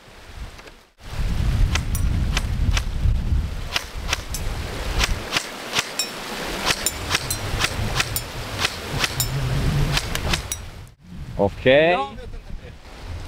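Wind gusts buffet a microphone on an outdoor softair shooting range, making a low rumbling roar. Sharp airsoft gun shots snap repeatedly over it, and a voice speaks briefly near the end.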